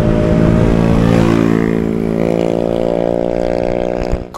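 Scooter overtaking on a road in Krabi, Thailand: a close, loud engine buzz with a rising, shifting pitch as it passes, fading slightly before ending abruptly; no voices.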